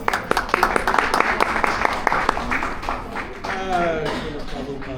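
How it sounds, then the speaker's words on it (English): Audience applause after a Bhagavad Gita class, steady clapping from a gathered crowd with a voice speaking over it near the end. "Can we have a massive round of applause"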